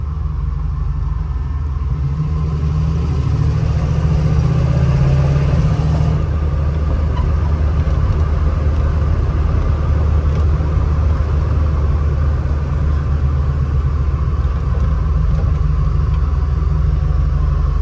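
A 1949 Ford F1 hotrod restomod pickup with a V8 engine drives along and slows to a stop, its continuous close road rumble and engine drone shifting slightly partway through.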